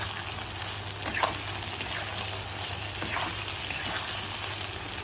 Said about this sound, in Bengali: এর মধ্যে আমি বেগুনগুলো দিয়ে দিলাম, দিয়ে অল্প নেড়ে চেড়ে ভাজবো